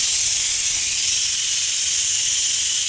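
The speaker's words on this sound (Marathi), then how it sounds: "दुधी भोपळा लावलाय कुकरला." A pressure cooker with bottle gourd inside hisses in a loud, steady stream of steam, unbroken from start to finish.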